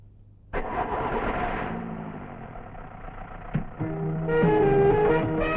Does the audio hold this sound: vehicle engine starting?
yes